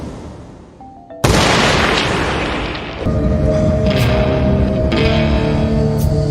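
A single loud gunshot from a pistol hidden in a handbag bursts out in a Peaky Blinders season 2 film scene, booming with a long echoing tail as dramatic sound continues underneath.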